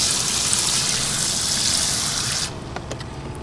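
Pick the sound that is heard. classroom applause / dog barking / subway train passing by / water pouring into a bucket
water pouring into a bucket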